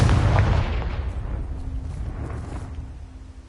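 A Confringo blasting spell explodes in Hogwarts Legacy, a loud booming burst at the start that rolls off into a decaying rumble, with no talk over it.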